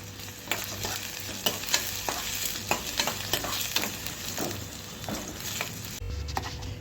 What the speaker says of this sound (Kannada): ಹಾಗೆ ನಾವು ಈರುಳ್ಳಿನ ಹುರ್ಕೋಬೇಕು.